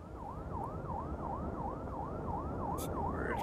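A wailing fire-truck siren in a top-down firefighting simulation game sweeps up and down in steady, even cycles, loud and continuous with no talk over it.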